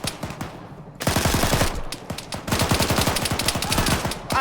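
Rapid automatic gunfire in the Arma 3 video game during a Cold War operations battle, long loud bursts of closely spaced shots after a brief quieter opening, near and dense, with no talking.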